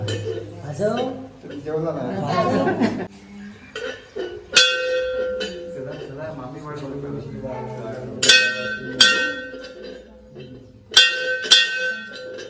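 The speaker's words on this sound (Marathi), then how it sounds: "घंटेला उचल त्याला घंटी वाजवायची आहे" A temple bell is struck three times at spaced intervals, each strike ringing out with a bright, lingering tone over people talking nearby.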